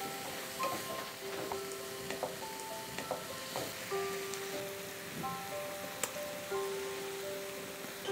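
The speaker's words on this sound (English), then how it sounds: "Mix it well and cook on a medium flame for 2 to 3 minutes" Masala sizzling and frying in a pan on a medium flame, stirred now and then, with a steady close crackle and scattered scrapes and taps of the spoon against the pan.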